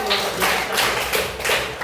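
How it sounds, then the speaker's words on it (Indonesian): A school class claps together for a student in a classroom, a short burst of close, lively hand claps lasting under two seconds. "Tepuk tangan dulu untuk Ajwa."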